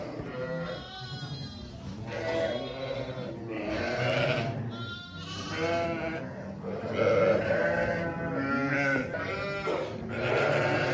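Many sheep and lambs bleating continuously in a tent barn, overlapping calls from a close flock, loud and busy throughout.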